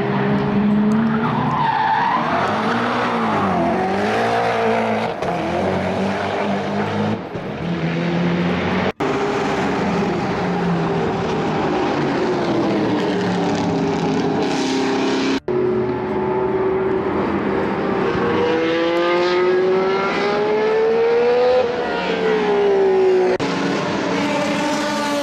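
A Koenigsegg One:1 supercar circles the Spa-Francorchamps circuit, its engine wailing and rising and falling through gear changes and passes, loud and continuous throughout with a few abrupt cuts.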